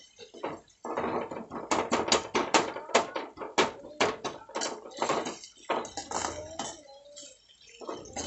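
Tomato rice with soy sauce being stirred in a pan, giving rapid, repeated scraping and clinking strokes of a spoon against metal, close and uneven in rhythm.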